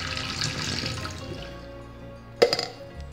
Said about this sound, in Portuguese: Que é bom colocar água quente dentro do ralo da pia.